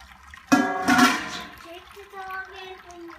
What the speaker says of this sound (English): all the sparge water's draining down through the grain bed into the boil kettle